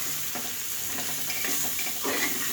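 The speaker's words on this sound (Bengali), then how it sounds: "এই যে সুন্দরভাবে কিন্তু ভাজাটা হয়ে গেছে অনেকটা" Pieces of papaya fry in a pan while a utensil stirs them, giving a close sizzle broken by repeated scraping strokes across the pan's surface, with no talking.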